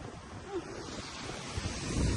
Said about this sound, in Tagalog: Wala pa tong bagyo guys, pero ang lapit na ng dagat dito sa amin.